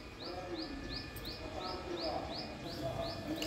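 A small bird chirps outdoors on a cool morning, giving about ten evenly spaced, bright, thin notes in a steady rhythm over a low background hum.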